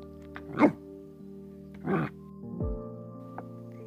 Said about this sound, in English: dog decided that he wanted to say hi.